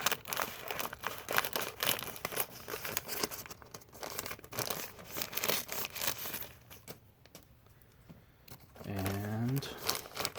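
A book parcel cut open with a blade: close crinkling and tearing of packaging in uneven bursts, soft scraping and rustling, then a short spoken voice near the end.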